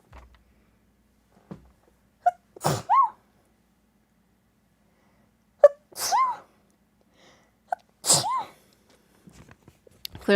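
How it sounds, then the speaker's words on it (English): Three separate sneezes come from one person, each a sharp inhale catch followed by a forceful burst, spaced a few seconds apart in a quiet room with small breaths and rustles between them. "I need to sneeze."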